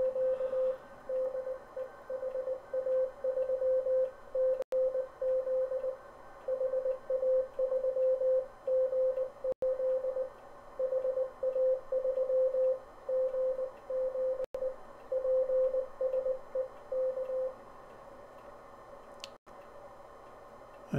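Morse code tones keyed at a steady rhythm, a single pitched beep pattern of dots and dashes running continuously against a hissy radio background, with brief clicks breaking in a few times.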